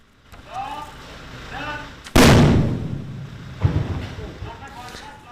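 Talk, then a sudden loud blast from a bomb-disposal robot's high-pressure water disruptor, with a hissing, spraying rush that slowly fades, followed by a smaller second burst as voices continue.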